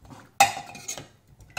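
A spoon stirs dal with water in a steel pressure cooker on the stove, giving a few scraping clinks against the metal with a loud stroke, scattered softer scrapes, and another burst at the end.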